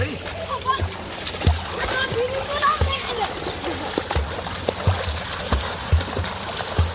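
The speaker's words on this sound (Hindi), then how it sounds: "ये छम्मा तिवारी पानी में तैरती हुई हेलो मछली बन के आप देख सकते हो" Water splashes and sloshes in an outdoor swimming pool as a woman swims, with irregular close splashes under ongoing chatter from people nearby.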